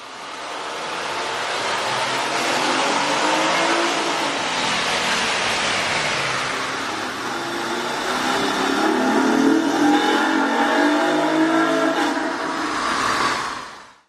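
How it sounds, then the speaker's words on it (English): A car engine fitted with a K&N cold air intake revving hard with a throaty intake roar, rising and falling as the throttle opens, loud and close throughout. "You can really see and hear the difference the K&N air intake system will make to your car."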